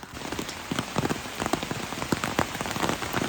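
Heavy rain pours in a hilly Kerala area, with a dense, steady hiss and many sharp drops pattering on a nearby surface throughout. There are no voices.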